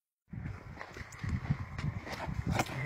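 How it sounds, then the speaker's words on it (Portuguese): Horse hooves clip-clopping at close range outdoors, an uneven run of soft knocking steps that starts abruptly and continues to the end, fairly quiet overall. "Ai, cavalo!"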